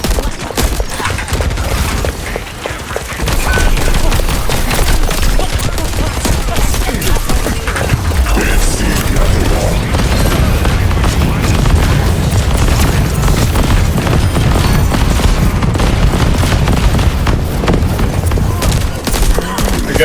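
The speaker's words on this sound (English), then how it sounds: "I want that frag grenade to stick." Frag grenade blasts and gunfire from the video game Overwatch make a dense, loud barrage of booms and rapid shots that runs almost without a break.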